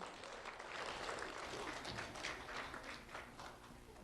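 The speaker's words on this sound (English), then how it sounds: "Round of applause for Riley Washburn" Applause from an audience at a Lee County Sheriff's Office recognition ceremony, a steady, faint wash of many hands clapping together without a break for about four seconds.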